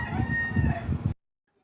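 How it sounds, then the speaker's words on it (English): A rooster crows loudly and close by in one drawn-out call that stops abruptly into silence. "the rooster in the back gets me"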